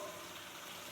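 A slice of butter sizzles in a hot steak pan, a soft, steady crackling hiss that lasts the whole brief moment.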